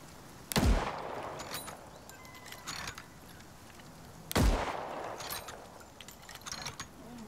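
Two loud bolt-action rifle shots from the survival video game Icarus boom a few seconds apart, each followed by mechanical bolt-cycling clicks and reload rattles.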